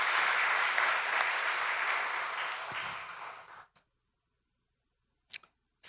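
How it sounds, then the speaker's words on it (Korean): A church congregation at a Sunday service applauds the choir with a dense, sustained round of clapping that fades out and stops, followed by silence and a couple of faint brief sounds. "그 격려의 박수 한번 보내도록 그렇게 하시겠습니다"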